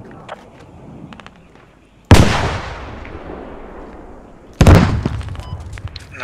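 Two loud, close mortar explosions in the Squad video game, each a sharp boom that rolls into a long rumbling decay, with a few faint pops and clicks between them.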